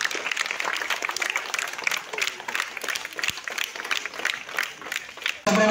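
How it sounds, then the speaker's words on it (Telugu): Sustained applause from an audience honouring a top-ranked student, dense clapping filling the whole stretch with a brief louder burst at the very end. "With a huge round of applause."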